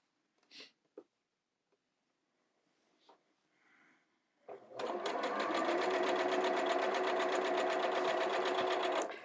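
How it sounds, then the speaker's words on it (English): Sewing machine stitching quilt fabric, starting with a few soft handling noises and then running steadily and loudly at a fast, even pace for about five seconds with no talk over it. "You just need to get confident with your sewing machine."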